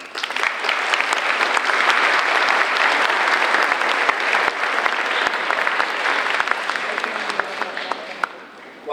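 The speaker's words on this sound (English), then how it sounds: "The round of applause." A graduation audience applauds in a large hall, steady and sustained clapping from a big crowd that holds for several seconds before easing slightly at the close.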